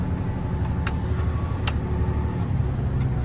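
A heavy loaded truck hauling wood for a São João bonfire in Marilândia creeps slowly downhill, a steady low engine rumble close by with a few brief clanks, and no talk.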